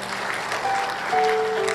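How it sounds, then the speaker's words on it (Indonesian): A church congregation applauding during a sermon, a brief steady wash of clapping with a faint sustained tone rising through it. "Berikan tepuk tangan bagi Tuhan kita."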